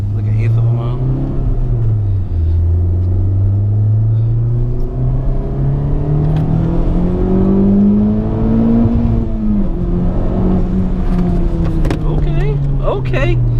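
A car accelerating hard in sport mode gives a loud, close engine drone whose pitch climbs steadily, drops at a gear change, then rises again, with people talking inside the cabin.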